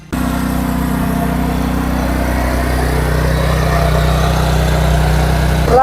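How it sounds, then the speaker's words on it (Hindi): A 12 HP tiller engine churns dry, barren soil with a steady, unbroken mechanical drone that runs close and evenly throughout, with no talk over it. "12 HP का इंजन है, आवाज कैसे करेगा?"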